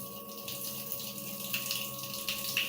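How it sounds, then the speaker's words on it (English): Warm water runs steadily from a tap and splashes onto hands held under it, a continuous close hiss with small splashy bursts. "Oh, I'm splashing all over myself."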